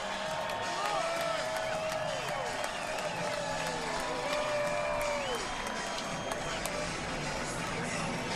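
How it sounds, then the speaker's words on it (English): A large crowd at the Daytona 500 roars and cheers steadily as cars pass, a dense wash of applause and voices with distant engine whines sweeping up and down through it. "And a big roar from the crowd as they come past."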